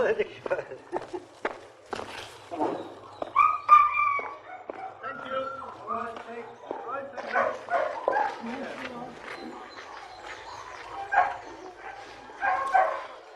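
Greyhounds bark, yip and whimper before a race, with scattered footsteps nearby and someone speaking over the excited dogs throughout.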